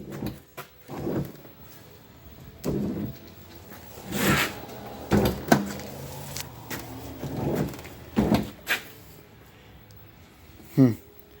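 The rear hatch of a Dodge Caliber under collision and rust repair opens and closes, with several short scrapes, rubbing sounds and thuds spread through the stretch, interspersed with someone talking.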